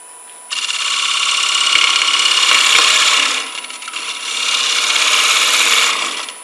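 A lathe gouge cuts into a green wood bowl, giving a loud, steady scraping hiss in two long passes with a brief dip between them and no talking.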